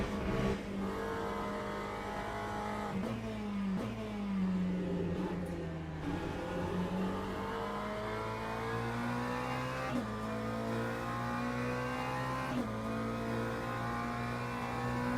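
A GT race car engine in the sim racing game Le Mans Ultimate drones loud and steady, pitch climbing through each gear with brief dips at shifts, continuous for the whole stretch with no talking over it.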